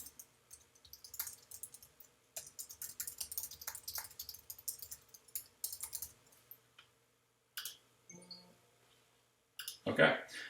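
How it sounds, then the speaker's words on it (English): Typing on a computer keyboard, with bursts of light, rapid clicks in uneven runs, pausing briefly, then a short louder noise near the end; close and fairly quiet, with no talking. "And having a hard time typing."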